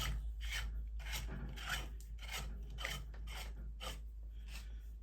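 A section of a heavy-duty 17-tine garden rake being screwed into place by hand, a close rhythmic series of dry rasping, grinding turns over a low steady hum.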